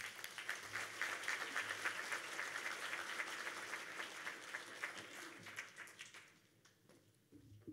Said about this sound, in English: Big round of applause for Syed Faisal.